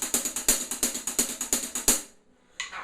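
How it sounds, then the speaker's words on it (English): A rapid run of short, crisp, high-pitched ticks from a closed hi-hat struck on its outer edge, about fifteen even strikes, then a brief pause and one more tap. "strike the outer circle of the hi-hat"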